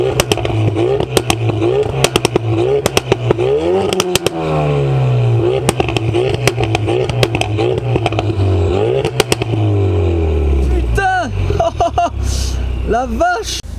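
A Ford Focus RS with its 360 hp all-wheel-drive engine, its exhaust loud and close, rising and falling through repeated revs with sharp crackles and pops, and people speaking briefly near the end.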